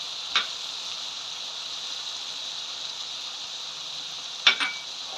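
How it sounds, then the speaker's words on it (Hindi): Chopped large onion sizzling as it goes into frying minced meat for keema paneer, a steady close hiss throughout with two brief sharper crackles near the start and end. "बड़े साइज की प्याज है, उसको मैंने काट के इसके अंदर डाल दूँगी"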